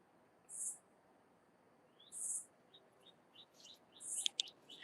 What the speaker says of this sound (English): because the birds are chirping loud right now